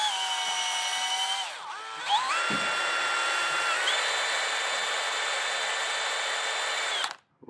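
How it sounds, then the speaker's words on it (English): A power drill runs loud and steady for about seven seconds, bogging down briefly near the start before spinning back up and whining continuously, then cutting off, while boring through a very thick workpiece on a workshop project. "Can you get the other drill? I feel like I'm going to burn the drill out."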